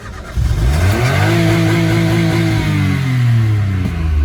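A CityBug car engine fires up out of gear for warm-up, rising quickly into a loud revving roar whose pitch climbs, dips and settles into a fast idle, close and alone.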